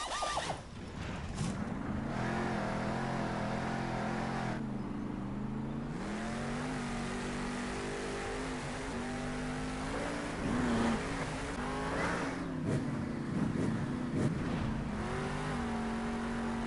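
A monster truck engine in the Monster Jam Steel Titans video game drones steadily and loudly, its pitch barely shifting despite throttle changes, with a continuous layered rumble throughout.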